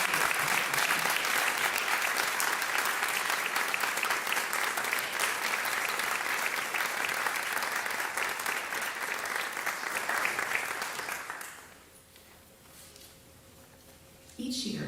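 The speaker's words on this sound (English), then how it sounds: "Please join me in applauding Nipun once more for this." Sustained applause from a convocation audience, a dense roar of clapping in a hall that fades out near the end, followed by a brief quiet stretch and a voice starting up.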